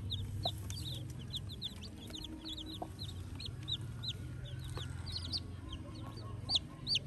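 Chickens, including a large crossbred hen, clucking repeatedly in short, rhythmic calls at close range over a low background hum, with no talk.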